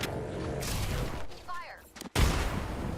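Rapid gunfire from an Apex Legends firefight, dense and loud for the first couple of seconds, then a brief lull before another burst of heavy shots; voices talk over the shooting.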